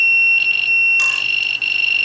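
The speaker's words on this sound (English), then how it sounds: "Sorry about the obnoxious beep." A quadcopter's beeper sounds once it is powered and armed, giving a loud, piercing continuous electronic tone held close throughout with a brief burst of noise partway.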